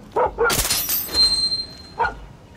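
A dog in a game scene gives a few sharp, short barks and yips, spaced apart and fairly close, mixed with a loud crash and a ringing tone that fades out.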